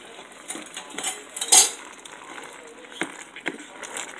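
Spaghetti ingredients stirred in a pot with peas, giving light clinks and scrapes of a utensil against metal at irregular intervals, one louder clatter early on, over a quiet background.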